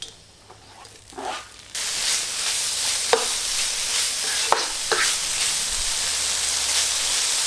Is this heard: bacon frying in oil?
yes